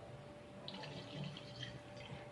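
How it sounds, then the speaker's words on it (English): Water from a cup poured into a Thermomix bowl, a soft, steady trickling splash lasting a couple of seconds, fairly quiet and close, with no talking. "you just pour in 1 cup of water inside"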